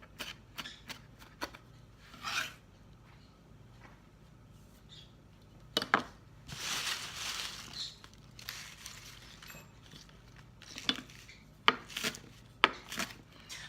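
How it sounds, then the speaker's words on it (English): Knife chopping vegetables for parrot food on a board, with quick bursts of sharp taps and scraping sounds at close range, separated by quieter pauses. "I'm going to get some of this chopped up"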